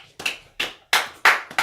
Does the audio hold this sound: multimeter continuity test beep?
no